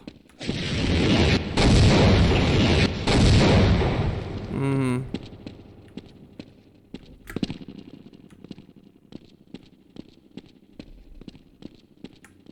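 A tank firing in the video game Half-Life, with a dense, loud rumbling blast at the start that gives way to a long series of sharp, scattered impacts and clanks.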